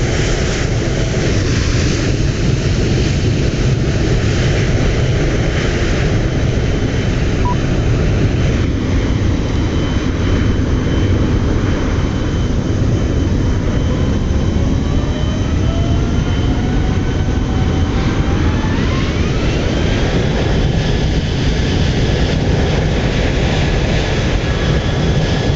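Airbus A320 airliner landing in Microsoft Flight Simulator 2020, a loud continuous jet engine roar and rumble with rising and falling whine tones throughout, no talking.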